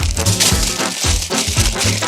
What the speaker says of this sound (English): So for starters, I'm just gonna bulk these out with a little bit of aluminum foil.